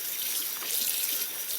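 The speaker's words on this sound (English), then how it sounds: "Okay, we're going to turn on some cool water." Cool water running from a tap to rinse a finished cross-stitch piece, a steady close hiss and splash with no pauses over the short stretch, no voices.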